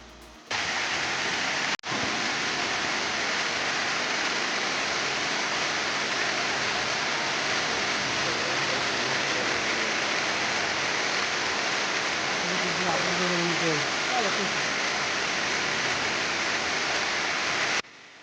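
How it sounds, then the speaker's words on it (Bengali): Damtua waterfall near Alikadam rushing in a constant, loud broadband roar close by, with faint voices under it midway. "তো চলেন আমরা একটু দামতুয়া ঝর্ণা দেখি"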